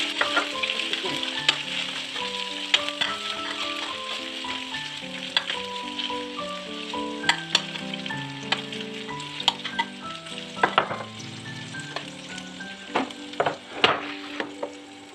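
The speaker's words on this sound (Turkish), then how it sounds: "Etleri katıyorum. Hafiften böyle sıcağıyla karıştıracağım." Meat fries in a hot pan for an oven tray dish, giving a continuous close sizzle with repeated scraping, clattering stirs and a faint tonal background underneath.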